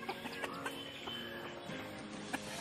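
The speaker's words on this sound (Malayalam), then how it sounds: "ഒരു 10-15 കോഴികളുണ്ട്" A flock of ten to fifteen native hens clucks softly in short, scattered calls over a constant low background hum.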